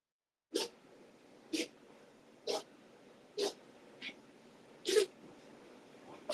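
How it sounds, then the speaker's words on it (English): Dogs indoors give short, sharp snorting bursts like sneezes or huffs, six or seven spaced roughly a second apart, close and moderately loud over a quiet room. "That's them dogs trying to tell me they won't go out."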